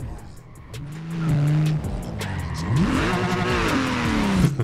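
A Porsche drifts in Forza Horizon 4, its engine revving up and down loudly while the tires squeal, with a voice speaking over the driving.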